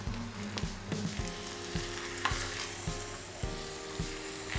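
Chicken pieces sizzle steadily in hot oil with popping mustard seeds, while a spoon stirs the pan in regular, knocking strokes through the frying.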